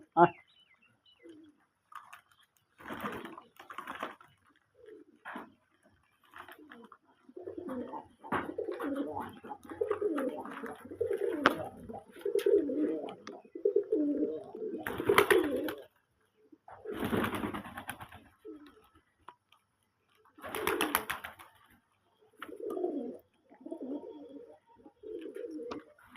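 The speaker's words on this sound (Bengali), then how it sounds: "কবুতরে বাচ্চা বড় হয়েছে" Domestic pigeons and their grown chicks coo and chirp in repeated bursts at close range, interspersed with a person talking and a few louder sharp rustles or wing flaps.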